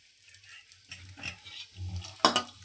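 Cashews, raisins and makhana are dry-roasted in a pan, with gentle sizzling under a few scraping stirs and a sharp metallic clink near the end.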